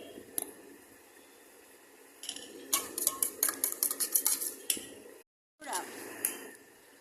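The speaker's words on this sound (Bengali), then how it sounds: "এখন আমি এখানে দুধ, চিনি দিয়ে আর ডিম দিয়ে ফেটিয়ে আমি এখন এই মিশ্রণটা মিশিয়ে দিব" Milk, sugar and eggs whisked together in a bowl for an Eid pudding: a quick burst of close, clinking metal strokes, a short break, then more rattling against the bowl.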